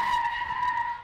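A school bus skids to a stop in a comedy skit, a single sustained, fairly faint tire screech holding a steady high squeal for about a second with no voices.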